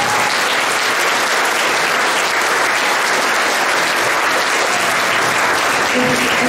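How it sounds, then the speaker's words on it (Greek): Loud, sustained applause from an audience honouring a teacher at a community award ceremony on Amorgos, dense continuous clapping at full level throughout, with faint voices underneath. "Το τελευταίο χειροκρότημα για το δάσκαλο στην εκδήλωση του Αθηνικού"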